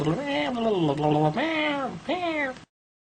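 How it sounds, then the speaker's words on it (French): A cat meows several times close up, long drawn-out wavering cries one after another, then silence. "Ça, c'est mon chat, je l'aime bien."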